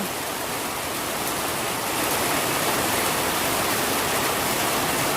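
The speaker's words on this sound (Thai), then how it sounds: "ฝนมันตกดีวันนี้ก็ให้มันตกแต่ดีตลอดเด้อ" Steady, dense hiss of rain falling, continuous and fairly loud throughout, growing slightly heavier partway through, with no voices.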